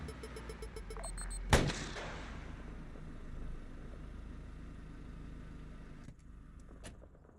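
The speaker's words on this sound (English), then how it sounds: "Missiles out, missiles out." An F-18 jet in ARMA 3 launches a missile with one sharp, loud blast, followed by a sustained jet-engine roar that drones on steadily, then a couple of faint distant thumps near the end.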